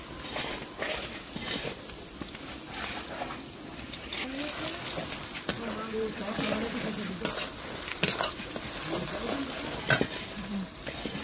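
Broiler chicken with chili powder frying in a pan sizzles steadily, with scraping stirs and occasional clinks while a voice speaks faintly in the background.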